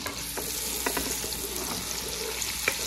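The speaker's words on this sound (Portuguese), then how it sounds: "já deu uma fritada boa na cebola e no alho" Onion and garlic frying in a pan for Greek-style rice, a steady close sizzle with occasional scrapes and clicks of stirring, no talk.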